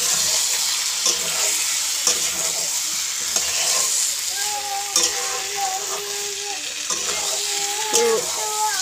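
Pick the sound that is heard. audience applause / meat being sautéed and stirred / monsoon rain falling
meat being sautéed and stirred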